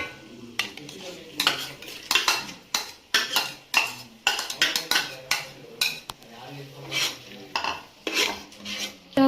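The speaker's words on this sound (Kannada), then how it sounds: "ಈಗ ಟೊಮ್ಯಾಟೊ ಹಾಕೊಳ್ಳೋಣ." Tomatoes are added to a pan and stirred while cooking mushroom biryani, with loud, close metal spoon scrapes and clatters in irregular bursts over a faint sizzle.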